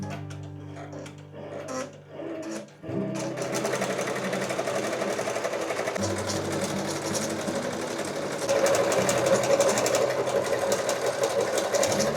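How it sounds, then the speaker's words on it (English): An embroidery machine stitching a jelly roll rug design, starting with a few short bursts and then running in a fast, steady mechanical whir close by, with no talking. "So let's get embroidering."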